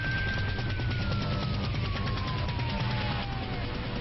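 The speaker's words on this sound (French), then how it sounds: "Coup de feu!" A steady, loud wash of noise with a siren tone slowly falling in pitch, suggesting gunfire amid an emergency scene rather than a single clear shot.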